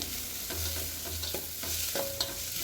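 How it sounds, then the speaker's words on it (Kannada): Sliced onions fry in oil for a Kerala-style chicken gravy, a continuous close sizzle broken by several scraping stirs of a spoon through the pan, with no talking. "ನಾನಿಲ್ಲಿ ಈರುಳ್ಳಿನ ಚೆನ್ನಾಗಿ ಫ್ರೈ ಮಾಡ್ಕೋಬೇಕು."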